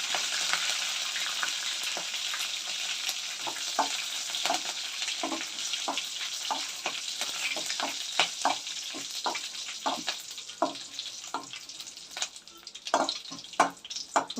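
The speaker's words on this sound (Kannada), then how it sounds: "ಮೆಣಸಿನ್ಕಾಯಿ ಮತ್ತು ಕರಿಬೇವಿನ ಸೊಪ್ಪು ಕ್ರಿಸ್ಪಿ ಆಗಬೇಕು." Green chilies and curry leaves fry until crisp in a pan, giving a steady close sizzle with frequent sharp crackles and pops, and stirring sounds throughout.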